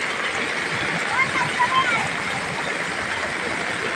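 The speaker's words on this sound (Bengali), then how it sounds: "এই যে পানির ঝর্ণা পড়ছে" Floodwater gushes down like a fountain in Pirer Bazar, Sylhet, producing a steady rushing wash of water while a person talks over it.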